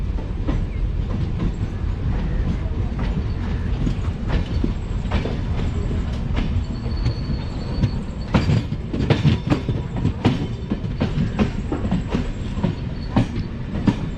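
A passenger train runs on rails on the Jasidih–Baidyanath Dham line, rolling with a steady low rumble and a run of rhythmic clickety-clack wheel beats over the joints that grow louder and denser in the second half.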